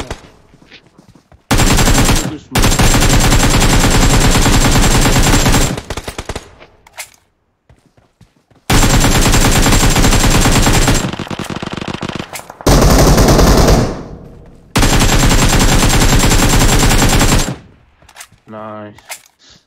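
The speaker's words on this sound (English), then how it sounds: "I'm just shooting through the smoke, but I can't even see this guy" Loud bursts of automatic gunfire from a PUBG Mobile match, fired through smoke, come in long sustained volleys separated by short pauses and a few quieter shots.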